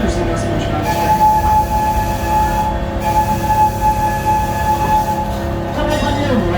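The Scenic Railway amusement park train at Six Flags Great America leaves its station with a continuous loud rolling rumble and steady hum, a faint tonal whine riding over it and no talk on top.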